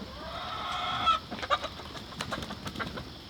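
Backyard chickens cluck in short irregular bursts, moderately near, over a faint steady background hiss.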